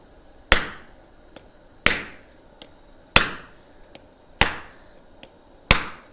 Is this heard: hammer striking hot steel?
yes